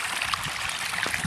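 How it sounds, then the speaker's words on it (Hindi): Water gushes steadily into a rice paddy nursery after its channel is opened, a close, continuous trickling and gurgling flow with small splashy bursts, heard alone. "पानी मैंने इसको खोल दिया"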